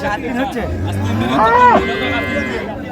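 A dairy cow at Raniganj cattle market in Dinajpur gives a single loud, close moo that rises and falls over low background chatter of the market.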